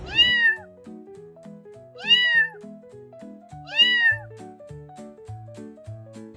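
A cat meows three times at steady intervals, each call clear and rising then falling, with a simple plucky tune playing underneath.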